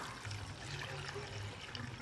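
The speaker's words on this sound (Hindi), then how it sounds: "ये अब हम इसमें 2 प्याली पानी की डालेंगे" Two cups of water poured into a pot of chicken balti, a soft, steady splashing trickle heard close but faint, with no voices.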